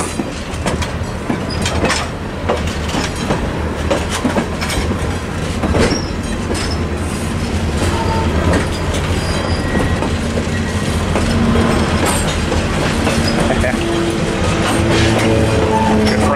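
A diesel locomotive train, Union Pacific E8A 942, rolls past close by over a crossing, loud and continuous, with rhythmic clickety-clack of wheels over rail joints and a low engine rumble throughout.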